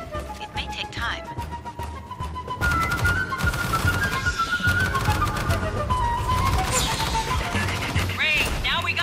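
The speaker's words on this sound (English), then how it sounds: "Must have heard the gunfire." Bursts of rapid gunfire in the video game Aliens: Fireteam Elite crackle and pop throughout amid chaotic noise and a low hum, with voices faintly mixed in.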